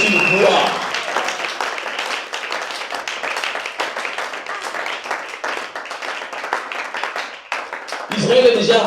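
A church congregation bursts into sustained, dense applause and clapping, loud and steady throughout, with voices mixed in and a louder swell near the end.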